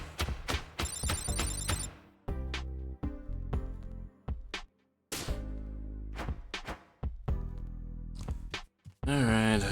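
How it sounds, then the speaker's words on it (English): A telephone in the video game Thirsty Suitors rings in repeated bursts separated by short gaps, with musical tones mixed between the rings and a faint voice. "Alright, I guess the phone rings now."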